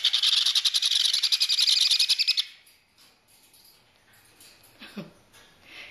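Four-week-old baby conure parrots at feeding time give a rapid, insistent run of rhythmic chirping food-begging calls up close for about two seconds, then fall quiet apart from a soft squeak and faint movement.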